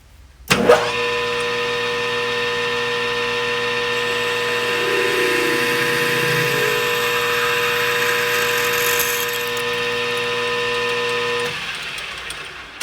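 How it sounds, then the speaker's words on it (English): A lathe starts with a jolt and runs with a steady mechanical whine and hum while a large drill bit cuts through a trumpet mouthpiece blank, then winds down at the end. "I'm gonna start off with kind of a big drill bit. Just hog on through there."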